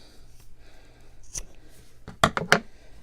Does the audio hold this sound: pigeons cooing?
no